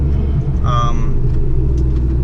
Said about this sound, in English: so Bugatti Chiron, very fast car, as you'd expect